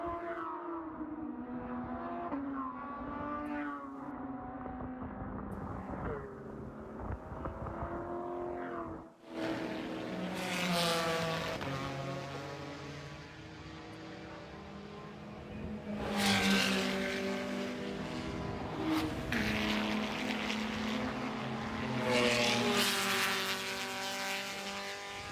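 Race cars, including a Porsche, roar through turns toward the hairpin at Sebring during a FARA Race of Champions event. Several engines rise and fall in pitch continuously and loudly, with cars passing close by in overlapping waves.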